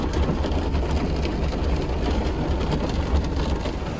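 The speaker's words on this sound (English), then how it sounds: "And today is so rainy." Rain falling outdoors on a rainy day, a dense, loud, steady hiss of drops striking surfaces with no pauses.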